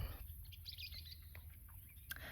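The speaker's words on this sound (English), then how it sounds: "sometimes birds are very loud." Faint bird chirps and tweets come through a steady background hiss, scattered and quick, somewhat distant.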